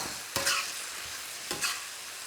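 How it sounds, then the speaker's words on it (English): Pork and wilted bok choy stir-fried in a pan: a steady close sizzle with two brisk bursts of scraping and tossing as the meat is mixed through. "I'm just going to go in now with all of my pork. Give it a really good mix."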